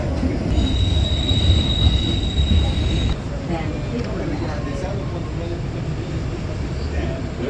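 A train pulls into a station, its steady low rumble of rolling wagons carrying a thin sustained wheel squeal, loud and close at first and then easing as it slows, with a voice speaking over it.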